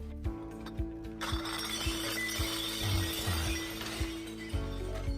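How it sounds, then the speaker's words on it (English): Glass bottles clink and knock against each other while recycling is sorted into a box. There are several sharp clinks and a brief rattling jostle in a quiet room. "Another glass bottle."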